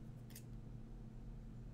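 Paper snipped once with scissors, a short crisp cut over a steady low room hum, close and fairly quiet, folded in half before cutting.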